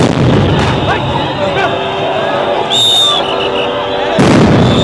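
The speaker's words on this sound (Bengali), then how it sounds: "দফায় দফায় সাউন্ড গ্রেনেড নিক্ষেপ করছেন পুলিশ" Police sound grenades burst at a street protest in Dhaka, producing loud, dense blasts within a roar of crowd noise, with people talking and shouting throughout.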